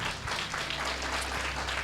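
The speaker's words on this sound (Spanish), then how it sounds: "¿Cuánto le dan un fuerte aplauso" Steady applause from a church congregation at a worship service, dense clapping filling the room evenly and continuing without a break throughout.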